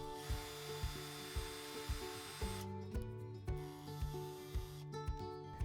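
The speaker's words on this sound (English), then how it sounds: "Now drill where you've marked screw holes on the wall." A power drill bores screw holes into a wall for curtain track brackets, its motor whining in repeated short bursts with sharp clicks at each start, close and clear with no talking.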